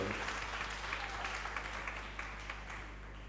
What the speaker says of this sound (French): Put your hand together.